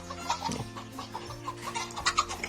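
A striped-feathered hen clucks on a farm in short, soft bursts at close range, over faint background farmyard noise.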